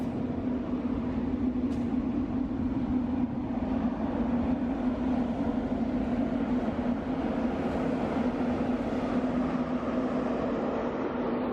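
Loaded freight train on the Sishen–Saldanha iron ore railway rolling past, a heavy continuous rumble with a steady low drone and grinding wheel noise that holds even and unbroken throughout.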